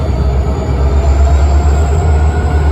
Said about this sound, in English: CN 6000 is a SD40-2Q. CN 674 XEJ&E is an SD38-2